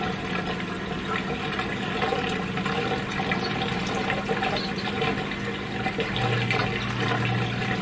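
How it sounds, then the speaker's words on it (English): Turtle tank filter material is rinsed in clean water, a continuous close splashing and sloshing with running water that keeps up steadily throughout, with no talking. "We clean it well in the clean water"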